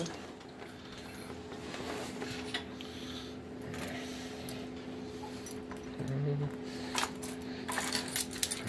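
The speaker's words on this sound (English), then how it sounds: "Too many keys on my key ring here." Keys on an overloaded key ring jangle in short metallic bursts near a Razkull and Z125 Pro motorcycle, faint at first and sharper toward the end, over a low steady hum.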